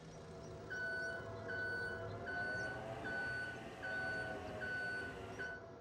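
A forklift reversing in Farming Simulator 25 gives off evenly spaced, repeating high beeps over a low engine hum, steady and moderately near.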